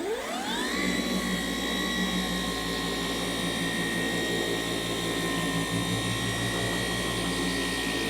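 A Rupes dual-action machine polisher working a car's paint with an intermediate polishing pad, spinning up to a loud steady whirring drone that holds evenly throughout.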